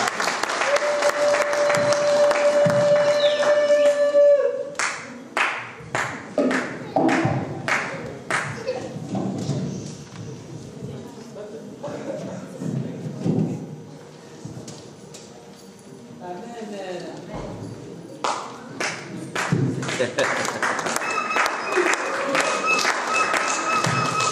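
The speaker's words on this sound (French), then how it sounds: "On peut les acclamer s'il vous plaît." A church congregation at a special Sunday Christmas service applauding, loud sustained clapping at first that thins into scattered uneven claps, with talk throughout and a final swell of clapping toward the end.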